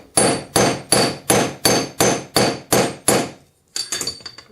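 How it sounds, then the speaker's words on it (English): A hammer strikes a bezel setting held in a metal block, eight evenly spaced hard metallic blows, a short pause, then a quicker cluster of lighter taps, loud and close with no talk. "just whacking away till it gets level with the top of the block"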